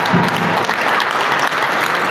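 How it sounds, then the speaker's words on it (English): Indoor audience at a farmers' training workshop claps together, a dense, loud, even burst of many hands lasting the whole moment without talk. "Let's give him a very big clap."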